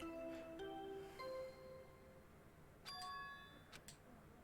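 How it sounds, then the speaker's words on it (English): A bell chime rings in Danganronpa 2, sustained tonal strikes that decay and then repeat with brighter, higher tones, moderately quiet and with no talking. "That bell just now."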